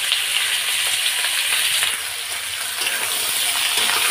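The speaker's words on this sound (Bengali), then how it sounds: "আলুগুলো একটু ভেজে নেবো লাল লাল করে" Potatoes fry in hot oil seasoned with cumin seeds and bay leaf in a home kitchen, a steady bright sizzle and hiss running continuously without talk.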